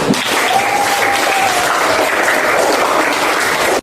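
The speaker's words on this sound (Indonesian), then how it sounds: "Tepuk tangan." Steady, dense applause from a class of schoolchildren, clapping continuously at an even level before stopping abruptly at the end.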